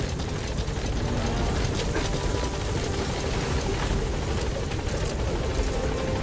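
A helicopter in Metal Gear Solid V: The Phantom Pain, its loud, steady rotor chop filling the whole stretch with no talk over it.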